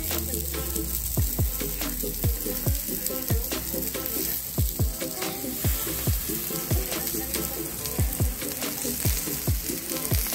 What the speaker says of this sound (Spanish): Miren, aquí los estamos ya friendo, miren.